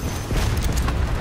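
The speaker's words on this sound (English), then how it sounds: "Cluster grenade." Cluster grenade going off in Call of Duty: Black Ops 4, a dense rumbling burst of overlapping low booms that rolls continuously for about a second at steady loudness.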